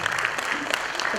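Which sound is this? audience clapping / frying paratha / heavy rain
audience clapping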